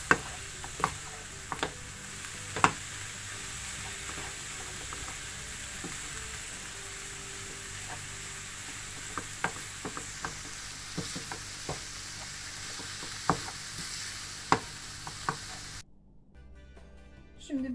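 Leeks with tomato paste sautéing in a pan for a leek börek, with a steady sizzle under frequent sharp scrapes and clicks of stirring utensils; the frying noise drops away near the end.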